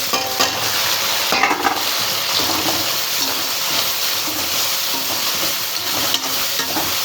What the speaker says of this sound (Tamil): இப்போ இந்த தக்காளியை போட்டுக்கிறேன்